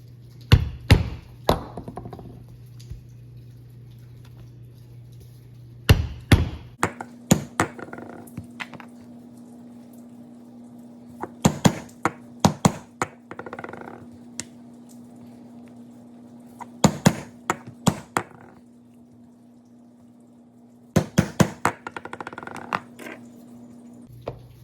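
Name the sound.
mallet striking chisel punching stitching holes in leather belt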